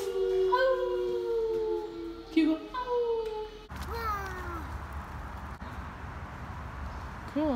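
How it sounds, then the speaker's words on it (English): A wolf howls at a zoo, long wavering tones that slide up and down, some overlapping, heard fairly clearly; later, faint background noise and family voices with a child's chatter come in. "Do you hear the wolf?"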